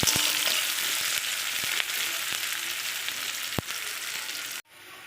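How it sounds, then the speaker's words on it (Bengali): Thinly sliced onions frying lightly in a wok, a steady hiss of sizzling oil with a few faint taps of stirring before it cuts off abruptly near the end. "তো দেখো পেঁয়াজটা কিন্তু এরকম হালকাই ভাজতে হবে"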